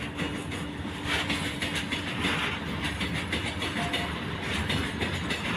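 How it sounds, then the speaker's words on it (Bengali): An Indian Railways WAG-9 electric locomotive from New Katni Junction hauls loaded coal wagons over a rail bridge, a steady rumble with repeated clickety-clack of wheels on rail joints, moderately close, for several seconds. "লোকোমোটিভ হচ্ছে new Katoni junction walk nine"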